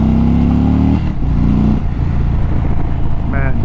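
A 2023 Indian Super Chief 116 Thunderstroke motorcycle engine drones loudly up close, its pitch shifting as it revs and pulls away, with wind rumble throughout.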